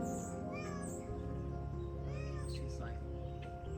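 A Siamese stray cat meows several times in short, rising calls, fairly quiet against a steady low background hum while a person talks over it.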